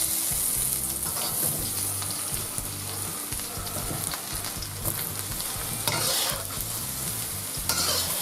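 Halved mushrooms frying in butter in a wok over high heat, a steady loud sizzle with continual stirring and scraping throughout, no voices.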